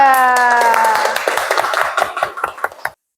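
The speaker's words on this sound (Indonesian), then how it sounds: "tepuk tangan buat kelompok 3" A classroom group claps briefly in a loose, uneven patter. Sustained musical tones ring at the start and fade as the claps thin out and stop abruptly.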